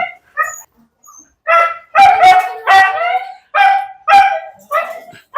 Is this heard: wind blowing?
no